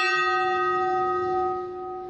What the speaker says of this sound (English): A single bell rings as each name is called.